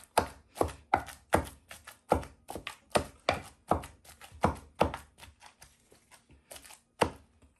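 Cassava and plantain being pounded into fufu, with steady heavy thuds landing roughly twice a second, close and loud, some lighter taps between blows, and no talking.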